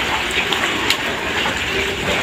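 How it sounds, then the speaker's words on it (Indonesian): Water poured from buckets into boiling soybean porridge while making tofu, a steady splashing gush with faint crackles, close and fairly loud throughout. "Nanti kita siram dengan 2 gayung, 2 ember ukuran 5 kiloan ini ya."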